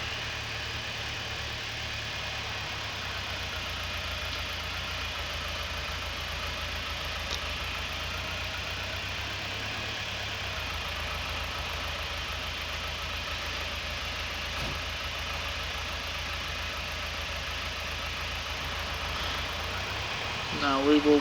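A John Deere-style 8210 tractor idling in a farming video game, a steady low engine drone with slight vibration, continuous and even throughout, under occasional talk.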